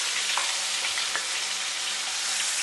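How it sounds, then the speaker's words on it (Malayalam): Fresh fish caught from a kayak in Kerala fries in a pan with a loud, dense, continuous sizzle and crackle, close up, with faint stirring or scraping underneath. "അങ്ങനെ നമ്മുടെ മീനിന്റെ ഒരു സൈഡ് നന്നായിട്ട് ഫ്രൈ ആയിട്ടുണ്ട്"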